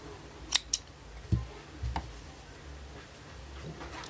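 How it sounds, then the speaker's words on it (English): Scissors snip through crochet yarn, a few sharp, close clicks and cuts in quick succession, followed by soft handling noises and quiet background. "you're going to chain 1 and just cut your yarn"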